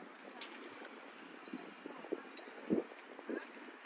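A boat on the flooded, high-running Mekong River at Nakhon Phanom, heard as a faint, distant hum under wind noise with a few soft knocks and splashes.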